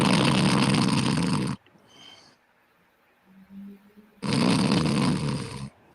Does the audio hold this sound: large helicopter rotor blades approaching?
no